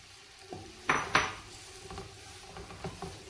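Carrots and capsicum are stir-fried in a pan for street-style chowmein. A soft sizzle runs underneath while a spatula scrapes and clanks against the pan in a few sharp knocks.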